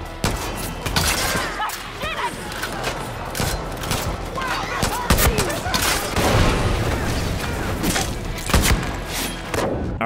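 Rapid gunfire from a weapon in Far Cry New Dawn cracks out in repeated bursts and single shots with booming thuds, mixed with game effects, while a person talks at intervals.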